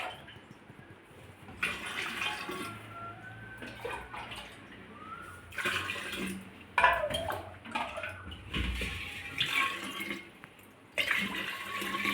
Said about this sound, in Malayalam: നമുക്ക് എനിക്ക് വെള്ളം നിറയ്ക്കാം